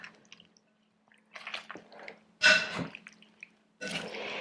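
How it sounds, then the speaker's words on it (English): Marinated shrimp with olives and artichokes being stirred in a bowl, giving a few separate wet squishing and sloshing bursts with short pauses between them, close and moderately loud, no talking. "I want to get every bit in there. And give this a stir."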